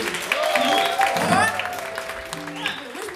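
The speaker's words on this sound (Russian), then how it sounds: "Давайте будем так хлопать, как будто тут стадион." Concert audience claps together in a steady burst of applause, loud and fairly close, with a voice and some tonal music audible over it.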